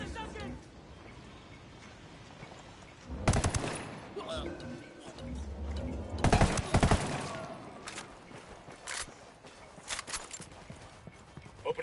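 Gunfire in Ghost Recon Wildlands, with loud bursts of rapid shots at about three and six seconds and scattered single cracks, over background voices and movement.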